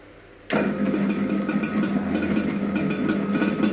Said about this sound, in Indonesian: Oke, kita mixer dengan kecepatan speed 2 ya.